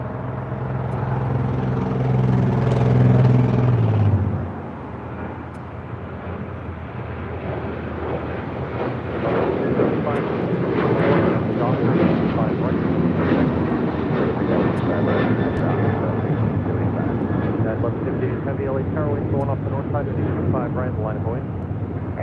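A United Airlines Boeing 737-900ER jet departs LAX for Chicago O'Hare, its engines a loud, sustained roar with a broad rushing hiss that holds steady after a low rumble drops away early on; voices talk over it.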